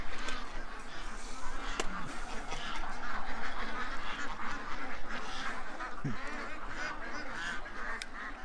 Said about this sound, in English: I got the ducks worked up